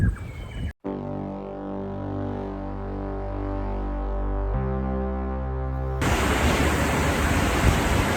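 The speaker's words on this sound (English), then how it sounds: "The waterfall at Iris Burn's hut." Waterfall near Iris Burn hut on the Kepler Track, heard as a steady, full rushing roar with a low tonal hum, holding evenly for several seconds before a louder, harsher burst of splashing water takes over near the end.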